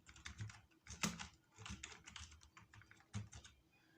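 Computer keyboard typing while entering a company name into an Excel spreadsheet cell, a close, quick irregular patter of key clicks with one sharper louder keystroke, alone without talk.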